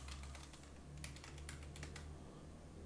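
Typing on a computer keyboard while entering a username and password at a control panel login, with steady clusters of quiet, close key clicks over a low background hum.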